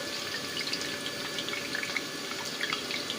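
A bay leaf is tempered in hot oil for a vegetarian mixed-vegetable curry, giving a soft, steady sizzle dotted with faint crackles and pops.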